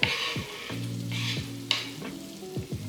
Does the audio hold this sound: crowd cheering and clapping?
no